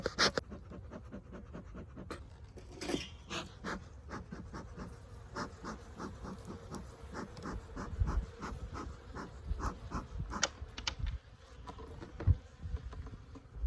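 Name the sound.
honey bees in a hive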